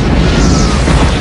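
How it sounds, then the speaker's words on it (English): A deep, sustained rumbling boom from an asteroid streaking overhead, loud and continuous, saturating the low end without any speech. "all of a sudden we heard a loud bang, followed by a sonic boom"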